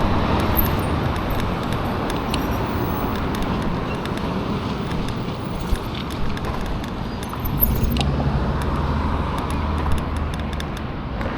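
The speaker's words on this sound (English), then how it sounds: "Wow, that was a lot of broken glass right there" E-bike tires roll over a crunching, crackling patch of broken automobile glass with scattered tinkling over road and engine noise, continuous and fairly close.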